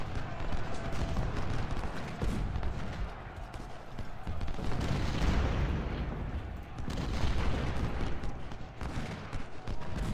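Massed musket volleys from Civil War infantry at First Bull Run in Ultimate General: Civil War, a dense continuous crackle of rifle fire rolling in waves over distant battle din for the whole stretch.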